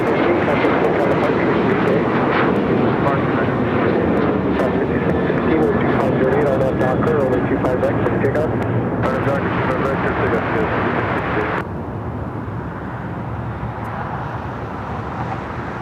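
Qantas Flight 11 from Sydney flies on the downwind leg at Los Angeles airport, a sustained jet rumble with crackly bursts that eases slightly near the end, talk audible throughout.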